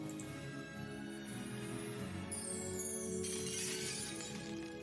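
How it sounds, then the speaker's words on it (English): A burst of glass shattering from the video game Sonny 2, a bright crash partway through, set against a dense, constant game soundtrack with music and effects throughout. "I do like the glass shattering sound effect that it makes."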